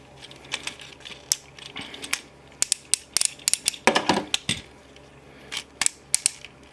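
A Tomica Master Back Draft Mk III toy is handled up close, giving sharp plastic clicks and ratcheting snaps in irregular bursts, with a busier cluster of clicks partway through and no voices.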